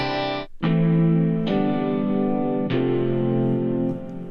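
A UJAM virtual guitar plugin strums open chords, three sustained ringing chord strikes with a brief gap after the first, full and bright with an effected, slightly distorted tone.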